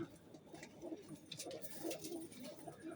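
Low, murmuring coos from caged breeding pigeon pairs roll on steadily at a quiet level, with light scattered clicks and rustles around them.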